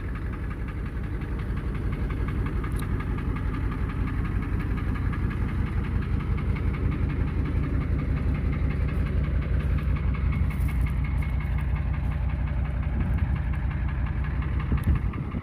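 A 1979 Ford F250 4x4 diesel idles close and loud on its first start in over a year, its knocking, clattering beat steady and unbroken with no voices over it.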